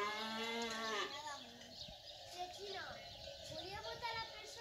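Cattle low in a corral on a fighting-bull ranch, with long drawn moos rising and falling over one another while children's voices and talk carry in the background.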